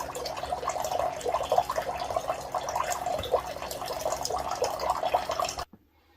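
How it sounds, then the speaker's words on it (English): Water drains steadily from a Simpure Y7P countertop purifier with its reservoir removed, a close trickling and dripping stream that runs evenly for about five and a half seconds and then stops abruptly. "And you can see that our reservoir is out and that it's still expelling the clean water"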